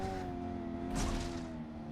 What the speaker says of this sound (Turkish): Siz de muhteşem arabamız sesini dinleyebilirsiniz bu anda